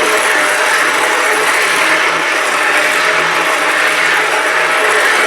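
An immersion stick blender runs in black bean and fresh pumpkin soup, a loud, steady motorized whirring that lasts about five seconds without pause, with no voices.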